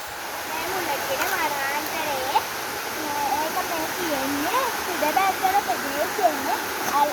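Steady roar of a Sri Lankan waterfall, a constant broadband rush of falling water heard close by, with voices talking over it throughout.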